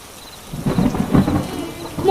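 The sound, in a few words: heavy rain with thunder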